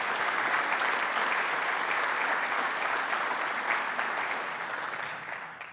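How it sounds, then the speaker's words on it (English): A conference audience gives a round of applause, dense, steady clapping that fills the room at an even level and fades only slightly toward the end. "Let's give this group a really great round of applause."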